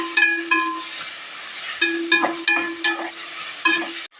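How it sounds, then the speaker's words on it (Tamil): Tomatoes and ginger garlic paste are sautéed in a pan, a close sizzle broken by repeated metallic clanks and scrapes of a spoon against the vessel at an uneven rhythm. "இப்போ இந்த தக்காளியையும் இஞ்சி பூண்டு பேஸ்ட்டையும் பச்சை வடை போகிற அளவுக்கு நல்லா வணக்கி எடுத்துக்கலாங்க"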